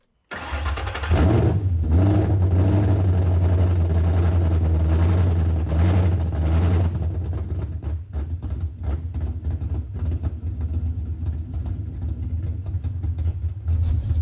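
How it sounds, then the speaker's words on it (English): A Ford Mustang Boss 302 V8 engine cranks and starts with a throaty revving burst, then settles into a steady, loud rumbling idle nearby. "Sounds like it's idling a little better now."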